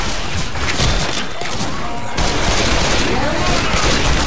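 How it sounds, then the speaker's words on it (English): Heavy, continuous loud blasts and gunfire fill the whole stretch in Left 4 Dead 2 as a grenade launcher fires amid dense combat noise, with a brief dip midway before the roar resumes. "Oh no, grenade launcher."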